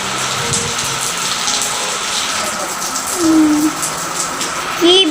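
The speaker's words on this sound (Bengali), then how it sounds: "কি বৃষ্টি শুরু হলো।" Rain falls in a steady, loud hiss during a storm at an outdoor cooking spot, a constant wash of sound with occasional voices rising over it.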